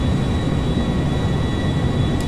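A jet aircraft's engine roars in GTA 5, a steady loud rumble with a sustained whine, continuous and unbroken, with no speech.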